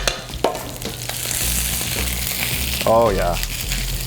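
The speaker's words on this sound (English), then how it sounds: "I'm gonna give my fish a flip now." Cod fillet frying in a hot pan, a steady broadband sizzle running throughout with a brief clatter as the fish is turned, and a short spoken remark near the end.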